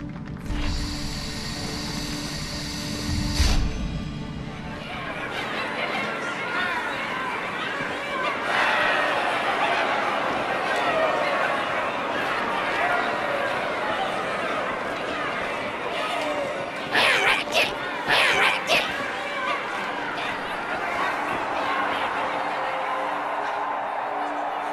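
Crowd chatter fills a Halo 2 video game cutscene, a steady murmur of many voices with mechanical clanks and occasional louder bursts, continuous throughout.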